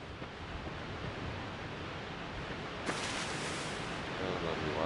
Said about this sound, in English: A lovely waterfall.